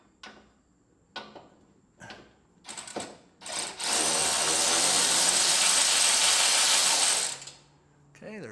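A socket wrench ratchets on the front bumper bolts of a 2019 Ford F250, first in a few short separate clicking bursts, then a long, close, continuous rapid ratcheting run.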